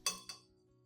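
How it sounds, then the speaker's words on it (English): A spoon clinks twice against a cup holding lemon peels, honey and rice, two bright ringing taps in quick succession that fade into quiet. "I add 3 spoons of rice into the cup containing the lemon peels and honey."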